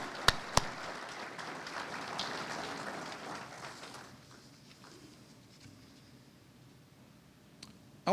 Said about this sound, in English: So a big round of applause to my executive committee this year.